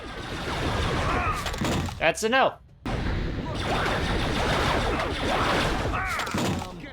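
A blaster pistol shootout against enemies packing cannons in the Star Wars Bounty Hunter video game: dense, rapid bursts of laser fire and heavy impacts, loud throughout, with a brief pause and a short spoken remark in the middle.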